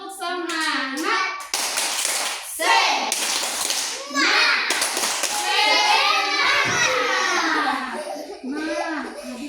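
Children clap along in a rhythmic chant at a Sunday-school class, the clapping mixed with young voices talking and giggling throughout.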